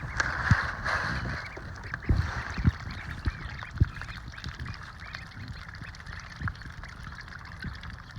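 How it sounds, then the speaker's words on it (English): Ducklings eating mealworms give a busy, continuous chorus of soft peeping and quacks, with intermittent pecking taps and splashy knocks nearby. "ducks love mealworms."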